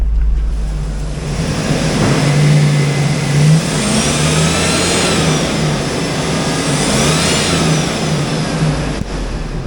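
A 2003 Hummer H2 with a 6.0L LQ4 V8 runs at close range in a wrecking yard. Its steady idle swells into two short revs, with a faint whistle rising and falling over the engine.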